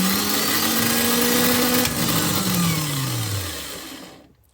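Starter motor on a 1973 Toyota Celica, jumped at the solenoid, spins with a loud whirring whine that climbs then falls in pitch before cutting off abruptly near the end.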